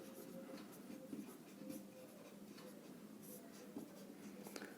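A pen scratches across paper in quiet, continuous strokes with small taps and pauses, faint and close over a low steady room hum.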